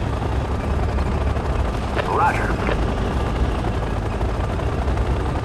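Helicopters in the video game Act of War: Direct Action fly toward a base with a continuous rumbling rotor drone, and a short radio voice briefly cuts in partway through.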